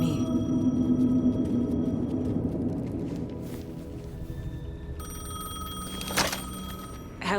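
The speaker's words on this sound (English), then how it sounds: "The payphone was ringing." A payphone rings in the Alan Wake 2 video game, a bright electronic ringing tone that starts partway through over a low, murky ambient rumble. A sharp click or knock lands near the end.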